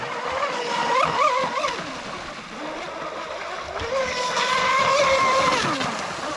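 A Proboat Mystic 29 RC boat fitted with a brushless motor and carbon fiber upgrades runs flat out, its high-pitched whine rising and falling as it speeds across the water at moderate distance.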